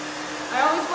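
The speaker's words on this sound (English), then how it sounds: "I always love to move my fingers back and forth when I dry." A hair dryer blows steadily at close range while hair is dried after an A-line haircut, the airflow swelling louder partway through.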